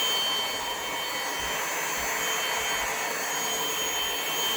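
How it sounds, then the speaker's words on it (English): A cordless 2-in-1 handheld vacuum cleaner with 10KPa suction runs steadily, giving a constant high airy whine and hiss, close and even, with no talk. "Nice vacuum cleaner."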